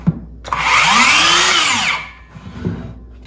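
A Metabo HPT (Hikoki) 18-volt 6-1/2-inch cordless circular saw with silent mode off spins up with a click, whines loudly at full speed for about a second and a half, then winds down; no cutting, and faint handling noises follow.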